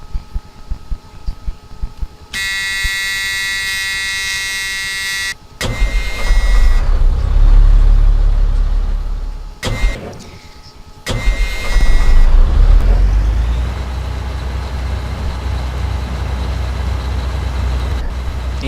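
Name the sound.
bus engine starting in the Rigs of Rods video game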